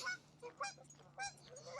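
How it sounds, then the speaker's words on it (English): Geese honk outdoors in a quick run of sharp, nasal calls, four or five bursts in under two seconds, fairly close and clear with no talking. "the geese don't like Pixel coming around"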